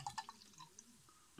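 Fizzy, cloudy Aldi lemon soft drink poured into a glass: faint, close liquid splashes and drips over a soft fizzing hiss, with a brief louder splash at the end.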